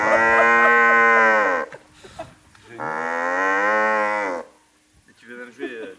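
A hollow courgette stem is blown like a horn to make a cow-like moo, giving two long, loud, buzzing tones and then a shorter squeaky attempt, close by.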